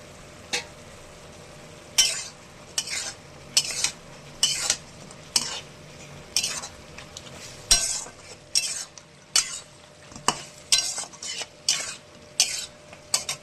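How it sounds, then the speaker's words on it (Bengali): Fish pieces being stirred and braised in hot oil in a pan, with a steady sizzle under repeated scraping strokes of a spatula or spoon against the pan, close and fairly loud, no voices. "এবার মাছটা দিয়ে আমি কষাবো।"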